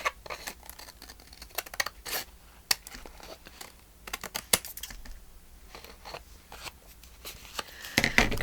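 Scissors cutting through paper journal cards, making a string of crisp, close snips and rustles with irregular pauses between cuts.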